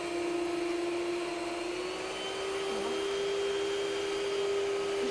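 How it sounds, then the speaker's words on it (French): An electric mixer beats a cake mixture in a kitchen, giving a steady, loud motor whine with a constant pitch that runs unbroken for the whole stretch and has no talk over it. "de battre le mélange, parce que ça fait quand même un peu de bruit"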